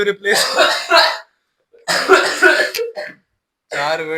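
Harsh, close coughing comes in three rough bursts with brief silences between them.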